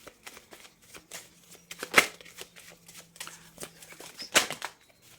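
Tarot cards riffle and slap as they are shuffled and drawn one by one, close and crisp, with two louder bursts of shuffling and softer handling in between.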